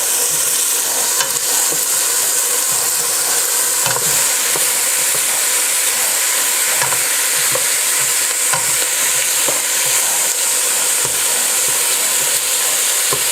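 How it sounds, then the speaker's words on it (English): Garlic and onions sauté in avocado oil in a stove-top pan for beef stew, giving a steady, close, loud sizzle with faint stirring scrapes throughout and no talking. "Right now I'm sauteing the garlic and onions together in the avocado oil"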